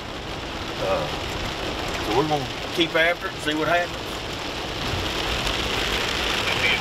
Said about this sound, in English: by golly, it's pouring the rain.